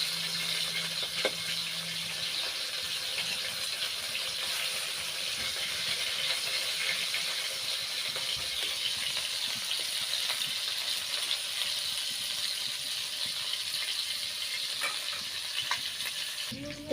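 Puna fish fries in a pan of oil, a continuous, moderately quiet hissing sizzle that holds steady for the whole stretch with no talk.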